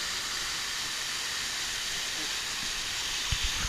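A waterfall rushing beside a swiftlet cave, heard as a steady, loud broadband roar of falling water that fills the whole clip, with a few low thumps near the end.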